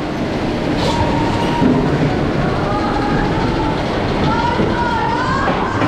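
Intamin inverted roller coaster Tornado, built in 2001, roars steadily along its rails at an amusement park station, a continuous loud rumble with faint wheel squeal.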